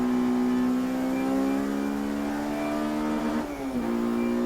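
Racing cars lapping at Brands Hatch, including a Honda, a loud steady engine drone with strong harmonics that holds high, then dips briefly near the end as the driver lifts and shifts, close and continuous with no talk.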